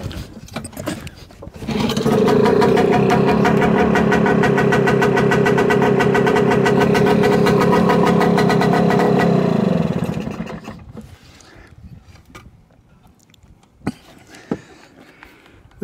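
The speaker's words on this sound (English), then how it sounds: "That's two stroke for you. Just starts first time, no choke, and just really, really reliable" A two-stroke petrol outboard on a Macwester Rowan boat catches after a brief pull, runs loud and steady with a buzzy, rapid firing note for about eight seconds, then cuts off, leaving quiet ambience with a few small knocks.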